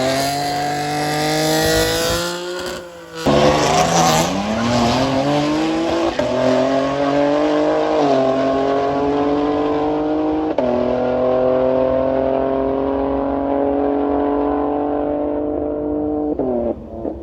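A BMW M135i on sticky tyres launches down the Santa Pod drag strip, its engine roaring loud and close through repeated rising gear pulls with short shift breaks, fading slightly near the end.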